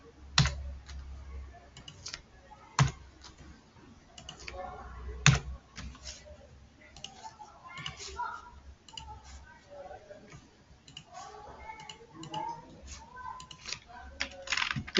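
Typing of an npm command on a computer keyboard: scattered soft key clicks with a few sharper taps, heard under someone talking.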